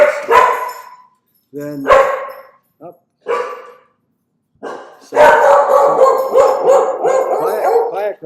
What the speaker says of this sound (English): I think she stopped barking.